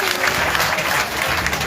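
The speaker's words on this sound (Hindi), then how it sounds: "जोरदार तालियां, पूरे पूरे हाथ भाग" Audience applause at a Ganesh festival religious discourse gathering in Ganpati Chowk: dense, steady clapping from a crowd, loud and continuous throughout the short stretch.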